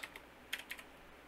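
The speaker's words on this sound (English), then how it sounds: "So we're going to go ahead and type in nano" A few quick, light key taps on a computer keyboard while a command is entered in a Linux terminal, sparse and close with no voices.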